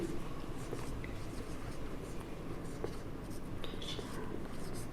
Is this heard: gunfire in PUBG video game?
no